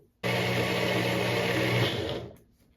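An electric blender whirs loudly and steadily while grinding a spice paste with a little water for a mushroom curry, starting abruptly and running about two seconds before winding down and stopping.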